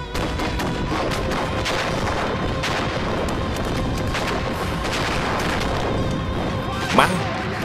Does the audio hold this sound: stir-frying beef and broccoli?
no